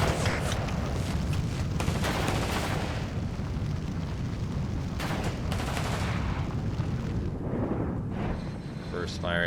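Rifle fire from mechanized infantry in the real-time strategy game WARNO roars on without a break, with dense rattling shots and booming blasts at steady high volume throughout.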